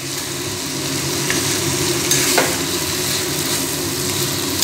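Mutton coated in spices fries on high flame for a Bengali curry, giving a loud, dense, continuous sizzle with steady stirring scrapes close up and no voices.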